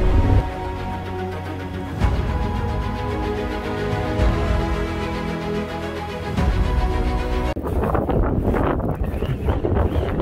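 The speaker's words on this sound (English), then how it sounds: "oh, it looks like it's windy. Look at all that dust blowing" Strong wind in Death Valley buffets the microphone in a constant low roar, mixed with the steady hum of a Yamaha Tenere 700 motorcycle riding through the desert.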